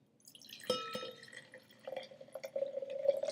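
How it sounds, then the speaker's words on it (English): Three Coins Syrah, a dark, inky red wine, poured from the bottle into a wine glass, giving a close, gentle trickle and splash that builds steadily as the glass fills. "We'll get the wine glass out here. We'll open this up and let's pour some."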